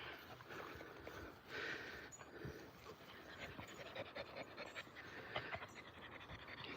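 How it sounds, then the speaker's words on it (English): A group of nine dogs pant softly on an Edinburgh walk, a faint, quick, breathy rhythm of overlapping gasps with an occasional snort over quiet outdoor background. "You hear the dogs? They're all panting."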